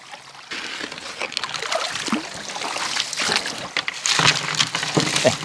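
Water sloshes and trickles through a very large sluice box outdoors, a continuous close splashing rush that rises and falls, with no talk.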